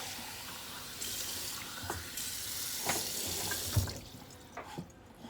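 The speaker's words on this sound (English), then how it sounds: "And we're going to add 2/3 of a cup of water." Tap water runs into a measuring cup in a kitchen, a steady close splashing stream with a few knocks and clinks of the cup before it tapers off.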